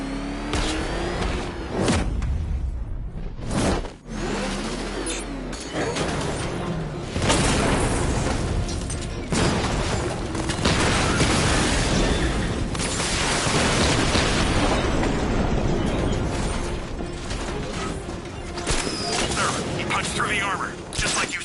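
Batmobile 60mm cannon fire and explosions in the Arkham Knight video game: heavy, dense blasts and booming impacts roll almost nonstop, loud and close, over a rumbling vehicle drone with brief gaps between volleys.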